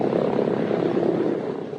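Propeller engines of a WWII B-17 bomber, the Memphis Belle, drone steadily near the runway before the run-up, a loud, continuous roar with no talking.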